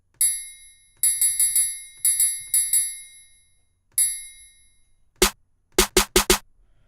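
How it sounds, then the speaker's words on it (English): A synthesized bell note programmed in Ableton Live for a trap beat plays as bright, clean tones, first in a repeating pattern of decaying strikes, then a few sharper, shorter hits toward the end, with no talk. "now that we have our bell"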